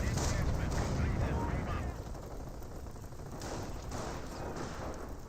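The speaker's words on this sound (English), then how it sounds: "We got this MG40 firing away." MG42 machine gun fire in the video game Company of Heroes, dense rapid bursts crackling through a busy battle mix, loudest in the first two seconds and then continuing a little quieter.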